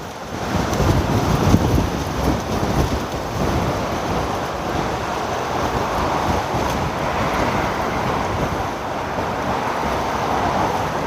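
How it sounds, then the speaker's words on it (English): Strong wind buffeting a microphone tucked under a shirt outdoors: a steady, loud roaring rumble with gusty low thumps throughout, no talking. "How is this wind like?"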